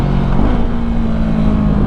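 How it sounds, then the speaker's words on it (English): A 2021 Yamaha MT-03 motorcycle fitted with a Leo Vince exhaust is ridden at a steady pace, giving a loud, continuous engine drone with a low, even hum. "I get some pretty aggressive gurgles and pops out of my Leo Vinci exhaust"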